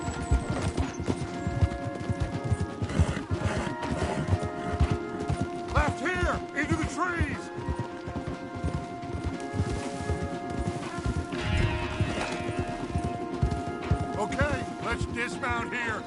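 Horses gallop in Red Dead Redemption II, with hooves clip-clopping in a quick, continuous rhythm, close up. Occasional whinnies and other game sounds and voices rise over the hoofbeats.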